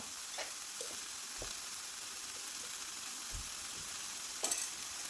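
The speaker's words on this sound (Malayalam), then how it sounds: "എല്ലാം കൂടി ഒന്ന് വഴറ്റി കൊടുക്കാം." Masala sizzles in a pan as pepper, cumin powder and salt are sautéed, giving a steady, quiet frying hiss with a few soft scrapes of stirring.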